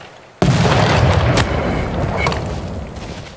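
Cannon fire in the strategy game Civilization VI: a sudden heavy boom hits and rolls into a sustained, loud rumbling roar that slowly eases off, with no talk over it.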